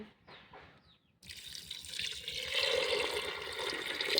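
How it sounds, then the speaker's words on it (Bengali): After a brief clink, water pours steadily into a pressure cooker holding chana dal, a close, rushing splash that deepens slightly as it fills. "দিয়ে দেবে একটু পানি"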